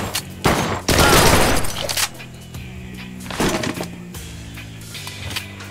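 Gunfire in the Blue Estate video game: loud bursts of shots hit near the start and again around the middle, over a steady musical backdrop with no talking.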